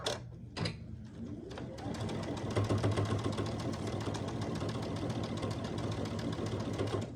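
A sewing machine stitches binding onto a pumpkin door hanger. It runs with a steady, fast mechanical whir and rapid needle clatter, close up and continuous after a couple of short starts, with no talking.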